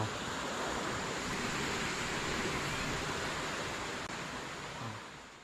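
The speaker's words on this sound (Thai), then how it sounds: "น้ำตกแล้วนะครับ" Steady broadband rush of a waterfall on a forest trail near Laem Noi, constant and fairly loud, with no voices.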